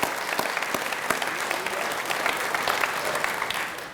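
Applause for students at the dedication of a university fitness and recreation center, a steady crowd of hands clapping at moderate distance, dense and even throughout with a few sharper claps standing out.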